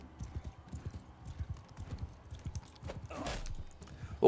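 Rapid clip-clop hoofbeats of a horse galloping in the medieval combat game Mount & Blade 2: Bannerlord, steady and close, with a brief burst of clashing battle noise near the end.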